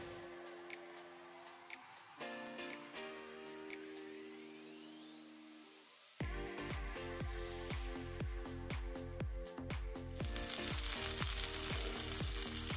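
Breaded chicken schnitzel pieces frying in a pan, a steady sizzle under loud music that grows hissier and brighter in the last few seconds.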